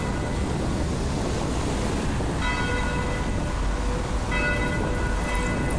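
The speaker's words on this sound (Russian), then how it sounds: "колокола звонят в одной из протестантских христианских церквей" A Protestant church's bells in Hanover ring out on a Saturday. Clear tolling strikes come in about twice over a steady, loud wash of outdoor noise, with no talking.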